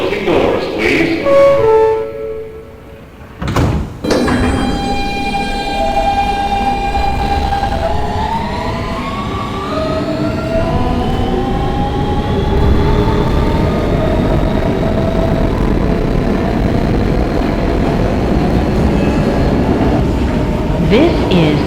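An R160B Siemens subway car on a Bay Parkway-bound W train runs via the D line, its motors whining up through rising and falling tones over a steady rumble, after a brief jolt near the start and some talk early on.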